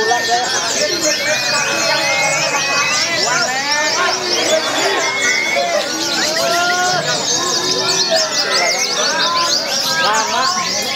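Many songbirds, including a Pleci (white-eye), sing at once at a bird singing contest, with dense overlapping chirps and trills under crowd chatter throughout.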